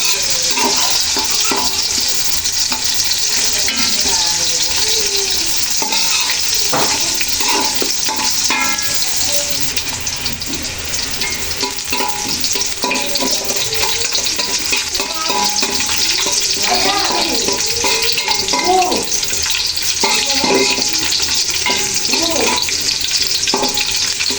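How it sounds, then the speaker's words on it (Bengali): Polao rice frying with browned onions in a home kitchen, a steady loud sizzle with scraping stirring strokes and occasional clinks and water noises throughout, no talk. "পেঁয়াজটা লাল করিয়া আর মধ্যে পোলাও চাইলি দিন।"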